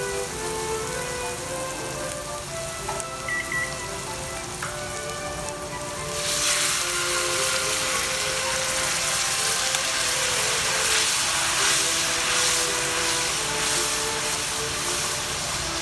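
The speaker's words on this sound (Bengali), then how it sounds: "এখন আমি এর মধ্যে দিয়ে দেব একটু গরম পানি।" Spice masala frying for shrimp bhuna sizzles softly, then hot water is poured into the pan, setting off a louder, sustained bubbling sizzle for the rest of the clip.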